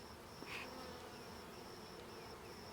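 Honeybees from a colony of around 50,000 buzzing during a hive inspection, a steady faint hum with a brief louder bee passing close, and no talking.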